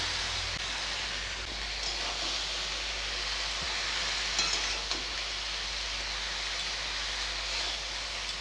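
Spinach leaves sizzle in a hot pan with a continuous, even hiss at close range, with a few faint stirring knocks and no talking.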